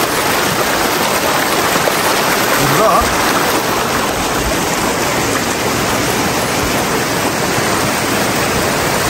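Fast-moving water from a stream rushes steadily and loudly near a river bank in flood, a continuous broadband wash with a person speaking briefly over it.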